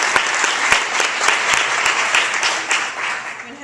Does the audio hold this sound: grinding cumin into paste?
no